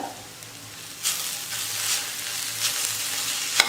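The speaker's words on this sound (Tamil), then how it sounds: "தேங்காய் சேர்த்ததுக்கப்புறம் கலந்து விட்டுட்டு ஸ்டவ் ஆஃப் பண்ணிடலாம்" Carrot stir-fry with grated coconut being stirred in a pan, a soft steady sizzle with a few louder scraping swirls of the spoon, close by and without talk.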